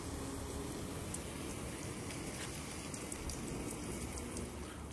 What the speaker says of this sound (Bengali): এখন শুধু এই গাছের এগুলাতে একটু পানি দিই, একটু উপরের থেকে দিই বৃষ্টির মতো